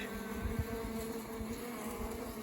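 Dense, steady buzzing of many honeybees close by at an apiary hive, a continuous droning hum with individual bees, some carrying pollen, passing near.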